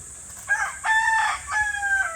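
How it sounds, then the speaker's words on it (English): A chicken outdoors squawks and crows in a few loud, drawn-out calls as it flaps up into a tree, close by with no talk. "Damn chicken flying up in the tree."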